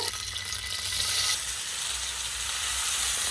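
Hot oil sizzles in a frying pan on a home kitchen stove, a continuous close hiss with brief crackling bursts and no talking over it.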